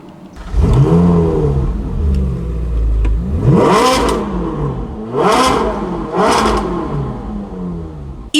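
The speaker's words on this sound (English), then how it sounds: "This is my 2015 Ferrari 458 Speciale Aperta." A 2015 Ferrari 458 Speciale Aperta V8 revs loudly up close, with one long climbing rev followed by three sharp, quick blips, each rising and falling in pitch.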